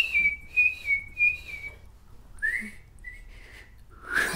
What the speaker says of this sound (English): you need to be able to whistle. Can you whistle? I can whistle.